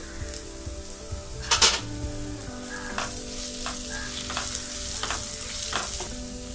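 Onion and coriander fry in a pan for lemon rice: a low steady sizzle broken by several sharp, close stirring scrapes, with a cluster of louder strokes early on. No voices.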